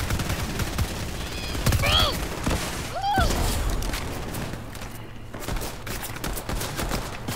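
Video game gunfire from a shooter match against bots, with rapid bursts and scattered loud shots over background game noise, plus a few brief in-game sound effects.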